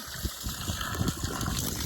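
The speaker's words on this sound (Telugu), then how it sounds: "ఇప్పటికి గంట అయింది మనం ఆన్ చేసి ఇంకా కూడా వాటర్ అయితే వస్తుంది" Steady gush of water from a borewell pump running for about an hour, a broad continuous rushing flow with faint splashing texture throughout, no voices.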